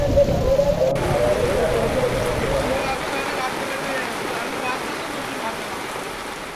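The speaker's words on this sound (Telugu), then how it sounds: "హైదరాబాద్లోని వివిధ ప్రాంతాల్లో 2 గంటల పాటు ఎడతెరిపి లేని భారీ వర్షం కురిసింది" Heavy, unbroken rain pours over Hyderabad as a steady, dense hiss of water that stays loud and even from start to finish.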